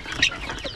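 Young guineafowl raised with native chickens and turkeys on a provincial farm give a short burst of clucking and chattering calls, fairly close and alone.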